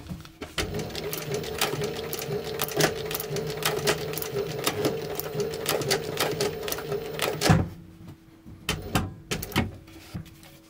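Sewing machine stitching through thick layered material about 8 mm in total, a steady close mechanical rattle of rapid stitches for about seven seconds, then stopping, followed by a few isolated clicks and knocks.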